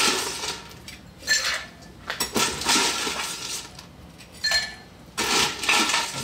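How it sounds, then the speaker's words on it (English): Ice clinks and rattles against a mixing glass as a rye whiskey cocktail with port gets a heavy stir, giving bursts of bright clattering with short pauses between them. "I'm just going to put a heavy stir on that."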